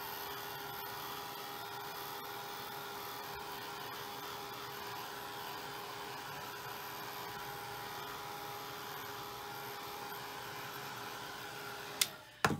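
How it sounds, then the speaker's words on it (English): A hot-air drying tool blows over a freshly inked Indian ink painting with a steady, close whooshing roar that holds level for about twelve seconds, then cuts off with a brief clatter at the end. "So we're gonna dry it real quick just to set it so that we know it's good and dry."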